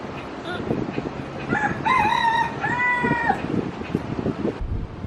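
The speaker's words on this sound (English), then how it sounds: "What do you think about all these chickens?" Outdoors in Hawaii, a rooster lets out a clear crow amid scattered clucking from nearby chickens, set against a busy ambient background with soft rustling and distant noise.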